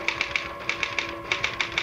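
Typewriter keys strike in a radio drama sound effect, about ten sharp clacks in short irregular bursts with brief pauses, close and fairly loud over a faint steady hum, with no voices.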